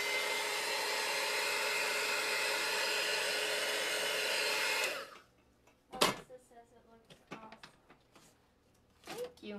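A handheld dryer blows steadily on a craft project for about five seconds, a loud, even whoosh that then cuts off, leaving quiet shuffling and small handling sounds.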